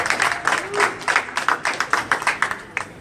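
An audience at a wine tasting party applauds, a fairly steady patter of claps lasting a few seconds at moderate loudness, no voices over it.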